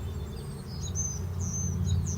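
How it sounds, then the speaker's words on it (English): Small birds chirp and tweet in scattered thin calls during a solar eclipse, faint and somewhat distant over a low steady hum of buzzing bees near the hive. "Birds are still chirping away though."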